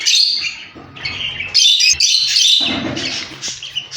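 Caged budgerigars kept by a breeder chirp and squawk in bright, overlapping bursts, loud and close, with brief gaps between flurries of calls.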